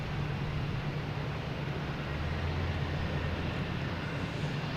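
A Delta airliner arriving from Atlanta at Boston Logan airport produces a steady, broad engine roar at moderate distance, with a low droning hum running underneath throughout.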